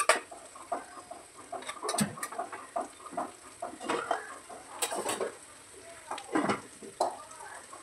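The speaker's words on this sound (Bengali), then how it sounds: "নেড়ে চেড়ে আমি ঢাকা দিয়ে দেবো।" Palak paneer stirred in a pan with a spoon or spatula, making scattered scraping clicks and clatters, then a lid set down over it; close and fairly quiet, with no talking.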